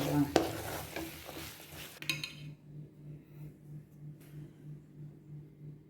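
A spoon scrapes and clinks in a pan while stirring garam masala chickpea sundal, with a few loud metallic stirs early on, then only a faint, steady rhythmic hum.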